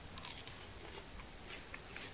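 Close, quiet crunches and chewing as someone bites into a lacto-fermented pickle buried in the ground, with a few crisp snaps followed by soft mastication.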